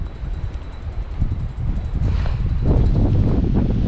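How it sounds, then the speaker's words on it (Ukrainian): Steady wind off the Baltic Sea at Międzyzdroje, Poland, roars and rumbles against the microphone, growing louder and more turbulent partway through. "тому з нього дує вітер"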